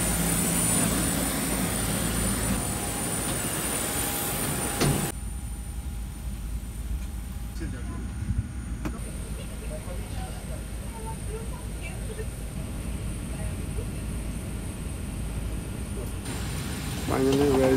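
Engines of a Boeing 737 airliner at Congonhas Airport give off a steady, loud broadband roar with a high whine, continuous throughout with no clear speech.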